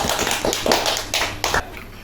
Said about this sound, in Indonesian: Jawabannya benar, aja tepuk tangan semuanya.